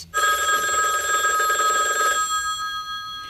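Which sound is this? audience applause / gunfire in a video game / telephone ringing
telephone ringing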